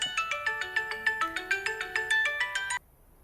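A mobile phone ringtone plays a bright, repeating electronic melody of quick pulsing notes up close, then cuts off abruptly near the end, with no talk.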